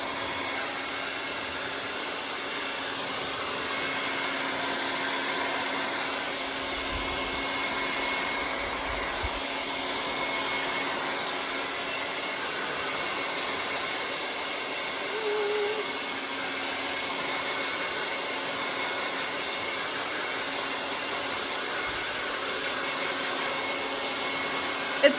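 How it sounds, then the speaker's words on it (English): A handheld blow dryer runs continuously while drying the roots of hair, a steady loud whooshing roar that stays close and even for the whole stretch with no talking. "I'm drying the roots first"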